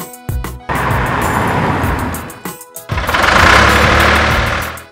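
A red van's engine starts and runs loud and close, sputtering through a couple of brief dips before settling into a steady, rough drone, alone without voices.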